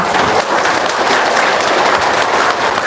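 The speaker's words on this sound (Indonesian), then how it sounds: "Tepuk tangan dong buat anak-anak yatim sini." A room full of people clapping for orphaned children at a talk, dense steady applause lasting a few seconds without speech.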